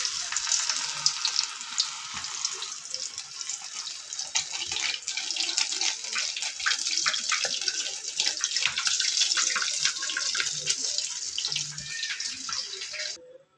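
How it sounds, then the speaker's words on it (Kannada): KFC-style chicken pieces frying in hot oil, a bright, steady sizzle and crackle that stays loud and close throughout before cutting off abruptly at the end. "ಆಯಿಲ್ ಕಾದ್ಮೇಲೆ ಹಾಕ್ತಿದ್ದೀನಿ ನೋಡಿ."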